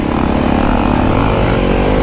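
Motorbike engine running loud and steady up close, with a constant low rumble throughout, ridden during practice for a trip to Mustang.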